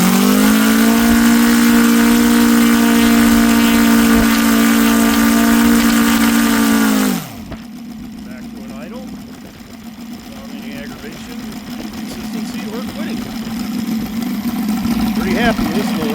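An OS FR300 model aircraft engine runs loud and steady with a high buzzing whine, then drops sharply to a lower idle, and its pitch and rasp build back up toward full power.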